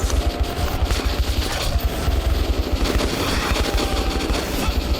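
Gunfire in the Metro video game: dense, continuous rapid bursts of shots with heavy booming low end, sustained throughout without a break.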